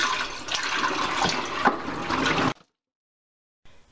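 Water runs steadily from a tap while a doll's cloth body is rinsed after soaking, a close, even splashing rush that stops abruptly, followed by silence and a faint resumption.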